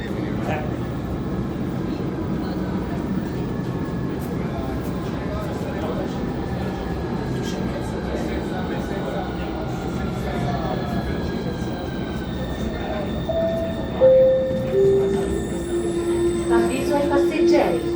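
A Milan M4 metro train rolls into a station with a long rumble and rising motor whine, and its wheels squeal near the end. People talk softly in the background.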